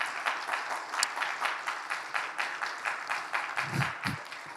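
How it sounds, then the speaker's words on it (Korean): A church congregation applauding at a Sunday evening service, a steady rhythmic run of clapping at moderate distance, with a couple of low thumps near the end. "저분 누구예요? 감사하네요. 뜨겁게 박수를."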